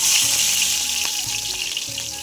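Onions hit hot oil in a frying pan while cooking soybeans, a loud hiss and bright sizzle that eases slightly as a few soft clinks and stirs come through.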